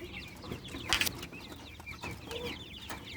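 Brahma, Rhode Island and Golden Sebright chickens and chicks cluck and peep in a Tarlac City farm setting, scattered short calls close by, with one sharper burst partway through and no one talking.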